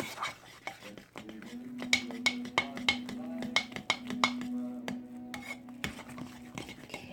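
Lavender shea butter hot process soap being stirred in a pot, with repeated scraping and clinking strokes of a utensil against the sides, close and fairly quiet, alongside a steady low hum.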